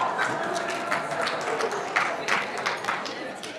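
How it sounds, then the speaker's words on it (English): Audience clapping at a talk or seminar, a steady wash of hand claps with scattered louder bursts, near and continuous, no voices on top. "The ethical people are clapping right now."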